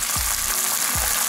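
Sauce hits ginger, garlic and green onion frying over high heat, producing a loud, dense, unbroken sizzle with two soft low bumps from the pan.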